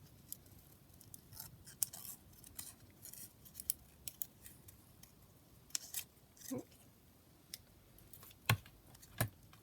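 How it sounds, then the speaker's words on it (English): Scissors snipping out a paper flower for a junk journal, a run of quiet, separate crisp snips and clicks with short pauses between them and a few sharper cuts toward the end. "I've got that orange flower, so I'm just going to cut that out"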